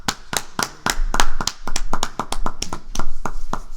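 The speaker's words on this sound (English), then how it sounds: "So please welcome Big round of applause." A small group claps for guests arriving on a podcast, sparse and uneven sharp claps close to the microphone rather than a full crowd.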